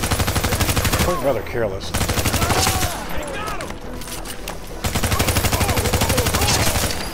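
Rapid automatic gunfire in The Division 2 rattles loud and close almost nonstop, pausing briefly mid-clip before resuming, while someone speaks over the shooting.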